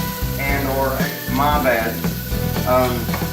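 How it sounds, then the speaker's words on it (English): Onions sauté in extra virgin olive oil for a pepper steak recipe, giving a steady sizzle under someone talking throughout. "we're gonna saute these onions here in this vegetable oil,"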